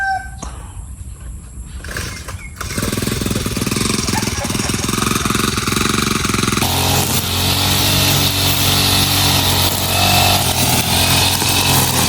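A grass cutter runs steadily while cutting grass in a backyard garden, a loud continuous engine drone that kicks in after a quieter opening with rooster crowing and birds, then grows busier and harsher partway through.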